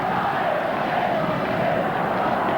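Ice hockey crowd going mad at the 1986 Norwich Union Autumn Cup, Nottingham Panthers against the Fife Flyers: a loud, unbroken roar of many voices fills the rink and stays at full level throughout.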